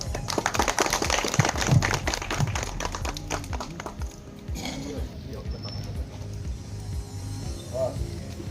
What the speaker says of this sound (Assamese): এটা হাত চাপৰি দিলে ভাল পাম।